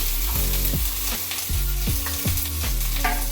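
Green chillies and onions frying in a pan of hot oil, a close continuous sizzle and crackle with regular stirring scrapes and knocks about every half second, no voices.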